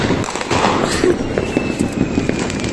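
Diwali firecrackers crackle and pop in a rapid series of sharp bursts outdoors, fairly loud and close, with a faint voice in the background.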